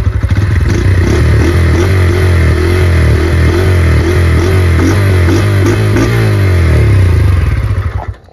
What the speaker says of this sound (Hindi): अब दोस्तों थोड़ा सा आप इसका एग्जॉस्ट नोट सुन लीजिए